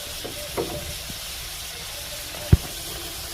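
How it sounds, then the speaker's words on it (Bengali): Potatoes frying in hot oil in a pan, a soft continuous sizzle and hiss with a couple of brief knocks, close and fairly quiet, with no talking. "আলুটা হালকা লাল করে ভেজে নিচ্ছি আমি।"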